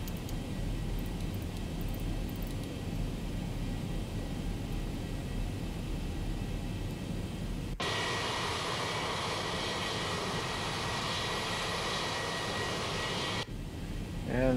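Airliner engines in the X-Plane 11 flight simulator, on a climb out of Salt Lake City past 10,000 feet: a steady, loud broadband roar that shifts to a brighter, hissier tone partway through, continuous with no talk.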